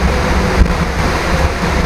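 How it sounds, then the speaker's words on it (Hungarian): Steady wind roaring at altitude during a flight, a loud, continuous broadband rush with no talk over it. "Olyan, mintha fent fújna a szél egy kicsit, ugye?"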